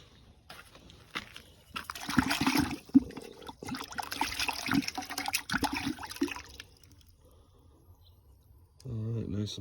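Water splashing and trickling over freshly fired pottery from a charcoal-fuelled coffee can kiln, a soft uneven wash of sloshing that rises and fades, with faint voice-like sounds near the end.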